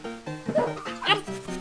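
Cartoon dog barks from the video game Family Dog, a short run of game sound effects with harmonic, voice-like tones, mixed with in-game music and speech.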